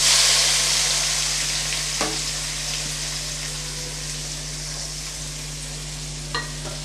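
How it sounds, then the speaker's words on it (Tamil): Finely chopped large onions frying in oil for a chicken thokku, a steady close sizzle throughout with a couple of brief stirring scrapes, no voices. "இப்போ ரெண்டு பெரிய சைஸ் வெங்காயம் பொடியாக கட் பண்ணி வச்சுருக்கேன் இப்போ அதை சேர்த்துக்கலாம்"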